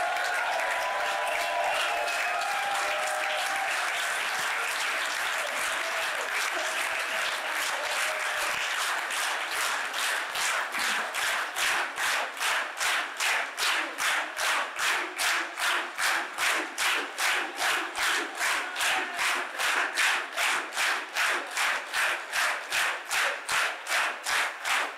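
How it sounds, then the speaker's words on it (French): A crowd at a Front Populaire political meeting in Marseillette applauds and cheers, the loud mass clapping gradually settling into steady rhythmic unison clapping that continues for the rest of the stretch. "vous avez tort d'applaudir comme ça"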